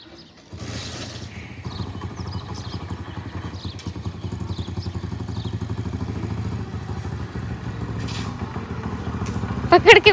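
A motorcycle carrying a child for a short ride starts up and runs at a steady, close engine putter with a rattling clatter throughout, holding an even pace for about ten seconds.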